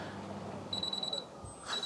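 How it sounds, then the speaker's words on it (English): Finish chime from a Miele heat pump clothes dryer: a run of short, bright, evenly spaced beeps, then a pause and another beep, over a low room hum. "Maybe it will chime now that I've pressed that."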